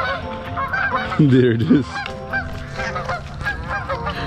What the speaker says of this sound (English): a dog came and chased out a flock of geese